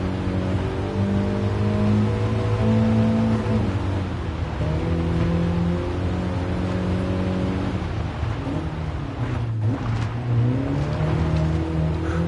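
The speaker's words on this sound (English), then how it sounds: "I'm drifting a little tiny bit." A car in Gran Turismo Sport on PS4 VR is driven steadily and drifts slightly, giving a loud continuous engine drone whose pitch shifts up and down with the throttle. There is no speech.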